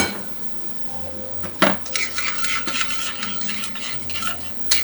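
Onion cooks in a pan for calamari in ink, with faint sizzling and a clatter of utensil against metal that grows busier partway through, giving irregular scraping and stirring clinks.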